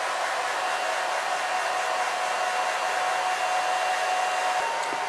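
A handheld hair dryer set between warm and cool on low speed blows a steady, even broadband whoosh with a faint whine, running close and continuously without pause or talk.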